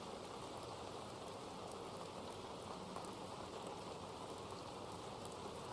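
Steady rain sound playing as background music, an even, dense hiss of falling water at low level with no changes or breaks, and no voices over it.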